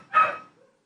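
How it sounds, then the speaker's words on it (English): A single short dog bark, loud and fairly close, followed by quiet. "That's the dog."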